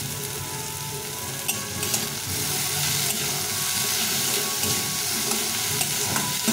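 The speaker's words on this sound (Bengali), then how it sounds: "আর পেঁয়াজটা ভালো করে ভাজা হয়ে যাবে" Onion and potato sizzle steadily in a pan while being stirred for an aubergine-potato mash, a continuous close frying hiss with scraping stir strokes and no voices.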